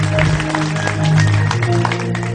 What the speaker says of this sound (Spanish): Dale palmas fuertes al Señor, hermano.